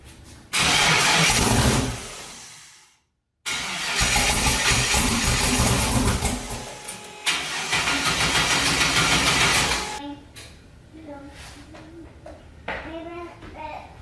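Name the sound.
car engine cranking but not starting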